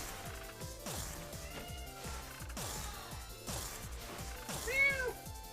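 A pet cat named Mickey meows several times, fairly close and clear, over a busy background of game music and sound effects with rhythmic low beats; one louder, drawn-out meow near the end.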